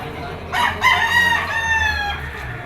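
A yellow-legged pumpkin sweater bull stag rooster crows once, close and loud, a drawn-out call lasting nearly two seconds over a low background rumble.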